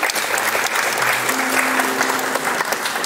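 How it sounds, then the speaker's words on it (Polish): Steady, dense applause fills a concert hall during a senior women's ensemble performance in Siedlce, Poland, sustained and close for the whole stretch without letting up. "Dziękujemy ze sceny i duże brawa Aniu dla ciebie."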